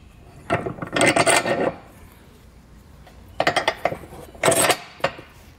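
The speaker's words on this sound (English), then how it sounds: "we're just going to slide this in place. And then once in place, we'll just slide our bolts through." A hitch receiver block slides into place and bolts are pushed through during a hidden rack installation on a 2020 Tesla, giving two bursts of scraping, metallic rubbing and clinking, close by with quiet pauses between.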